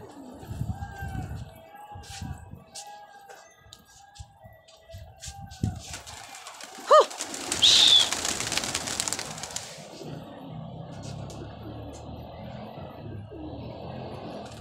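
Pigeons coo softly amid a busy background of rustling and movement, with a sharp burst of noise partway through.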